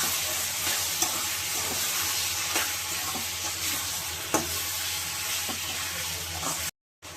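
Tomato rice masala with chili powder being stirred in a pan, a steady close sizzle and scraping with occasional spoon knocks against the metal, no voices.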